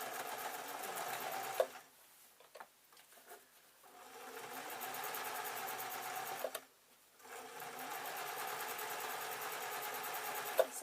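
A sewing machine stitches a fabric circle onto a straight edge for a desk tidy, running close in three steady, rapid bursts separated by short pauses.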